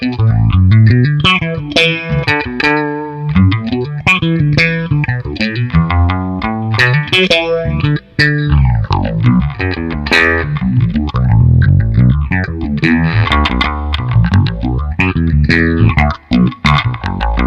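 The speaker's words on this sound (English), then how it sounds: "take the phaser sounds available in the bass envelope filter and get yourself a phaser pedal just by using a slow LFO" Electric bass through a Source Audio Soundblox Pro bass envelope filter set as a phaser with a slow LFO: a loud, continuous bass line whose tone sweeps and swirls in slow waves, with a gritty, chorus-like edge.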